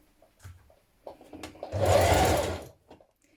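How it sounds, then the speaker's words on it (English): A sewing machine stitches a sleeve into a dress, a short close whirring run of about a second after a few light clicks and handling taps. "Stitch your sleeve in position."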